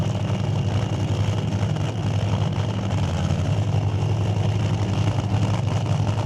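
An NHRA Summit ET Series drag race car on a test and tune pass gives a continuous loud engine drone with a strong low hum that stays steady, and no distinct gear change stands out.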